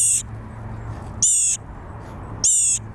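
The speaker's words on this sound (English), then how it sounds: "The bird obviously fell out from the nest." A baby bird that has fallen out of its nest gives three loud, high, piercing chirps, evenly spaced about a second apart, over a low, steady background hum.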